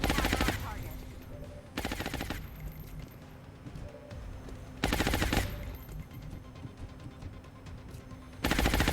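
Suppressing machine-gun fire in XCOM Long War, heard as three loud sustained automatic bursts spaced across the clip, with quieter game ambience and a brief spoken word between them.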